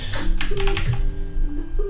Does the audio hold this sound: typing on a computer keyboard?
yes